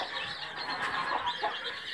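Many chicks cheep loudly and continuously together after their water ran out, a dense chorus of high-pitched peeps close at hand.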